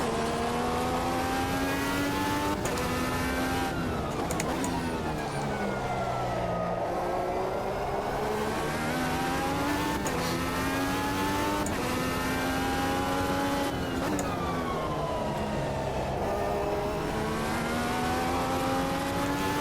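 A race car engine in the Automobilista 2 sim racing game drones loudly and without a break, its pitch rising and falling as the car accelerates and shifts gears.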